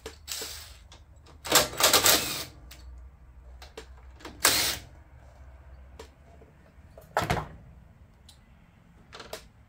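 A ratchet with a ten millimeter socket loosens a bolt on a John Deere LT150 lawn tractor, heard as rapid clicking bursts and separate sharp metallic taps, close and irregular, with quiet gaps between.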